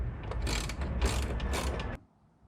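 A spanner works the ball joint of a bonnet gas strut on a Nissan Navara, giving close, loud ratcheting metallic clicks and grinding in quick bursts for about two seconds before stopping abruptly.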